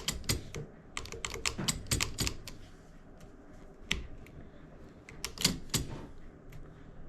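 Keys on a Facit C1-13 mechanical calculator under repair are pressed in a rapid, irregular run of sharp clacks, close and fairly loud, with a pause before a final cluster.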